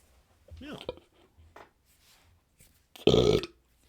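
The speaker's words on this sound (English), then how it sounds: "Burped." A loud, croaky burp near the end, close up, following a few quiet vocal noises.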